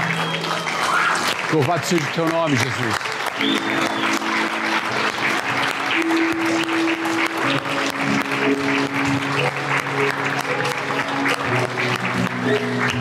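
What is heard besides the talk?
congregation applauding in church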